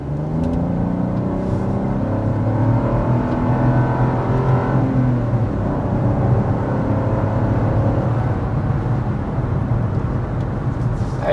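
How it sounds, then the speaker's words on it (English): A 2025 Buick Envista Avenir's 1.2-liter turbocharged three-cylinder engine pulls hard, revs climbing through gears with a shift near the midpoint, then a sustained loud cabin drone of engine and road noise, no voices. "we want to go ahead and start by giving you a hard acceleration so you can see what the powertrain is all about"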